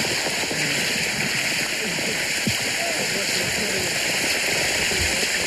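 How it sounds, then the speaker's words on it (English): Steady rain falls outdoors in a continuous, close hiss and patter of water with no letup, and voices murmur faintly underneath. "I can't tell it to stop raining."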